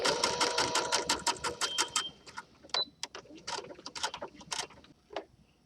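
A sewing machine stitches fabric for a gathered skirt in rapid, steady mechanical bursts for about two seconds, then runs in shorter, stop-start spurts, close and clear with no talking.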